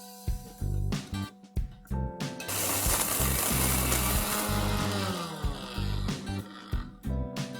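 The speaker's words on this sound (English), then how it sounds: "now while this is getting fried, let's grind our garam masala" An electric kitchen grinder whirs through garam masala spices for a mutton curry, starting with short loud pulses, then running continuously for several seconds before more brief pulses.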